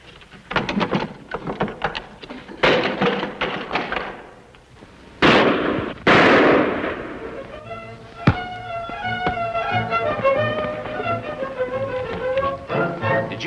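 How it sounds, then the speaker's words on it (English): Pistol shots ring out in an old-time Western radio drama, a run of sharp cracks and bangs, some loud and near, others fainter, followed by a single hard report as a ringing tone sustains afterward. "Pistol shots come from that direction"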